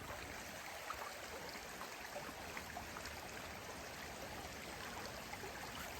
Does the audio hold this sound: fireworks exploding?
no